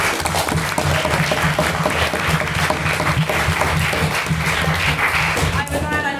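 A debate audience gives a maiden speaker a sustained round of applause, dense and steady clapping filling the room from start to finish.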